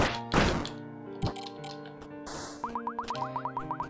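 A charge attack in the video game Momodora plays as game audio with thunks and metallic hits over a bed of tonal music, then a rapid series of rising, pulsing blips repeats steadily to the end.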